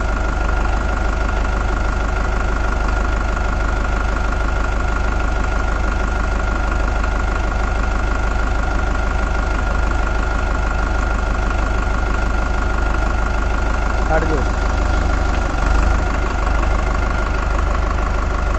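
A Farmtrac 6055 T20 Powermax tractor engine runs steadily at low speed, a loud, close, continuous rumbling chug with an even knocking rhythm throughout.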